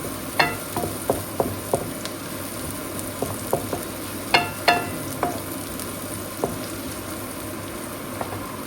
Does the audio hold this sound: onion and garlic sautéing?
yes